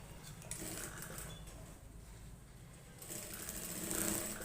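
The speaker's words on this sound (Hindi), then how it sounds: "इसकी भी हम सिलाई इस तरीके से ले लेंगे इस तरीके से, और इसकी जड़ पे सिलाई लगाएंगे यहाँ पर इस तरीके से।" A sewing machine stitching a shirt cuff, running in a continuous low mechanical whir with a slight change in pace partway through, fairly quiet and steady.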